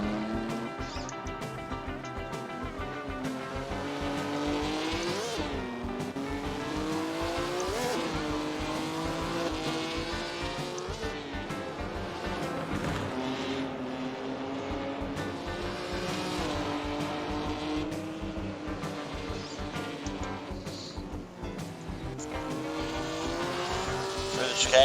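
Mid-1950s Formula One race cars lap the Monaco street circuit in Assetto Corsa, loud engines rising and falling through gear changes, with tire squeal around the harbour chicane under continuous commentary.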